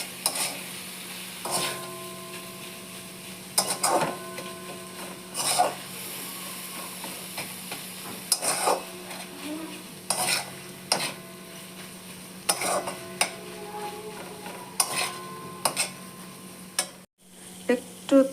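Chicken keema is stirred over a low flame in a pan, a soft background sizzle broken by repeated sharp scrapes and knocks of the spatula at irregular intervals, near and without speech.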